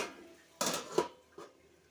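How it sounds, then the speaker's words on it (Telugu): A lid set onto a cooking pot, three quick metallic clanks close by, the middle one the sharpest, in a quiet room with no talking. "మూత అయితే పెడతా ఒకసారి ఇలా కలుపుకొని మూత పెడితే తొందరగా మగ్గిద్ది"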